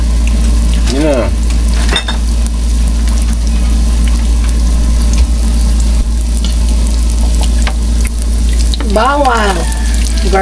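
Garlic frying in not-yet-melted butter in a pan for goat kaldereta, a loud steady sizzle close by with a few light stirring clinks, under a constant background hum.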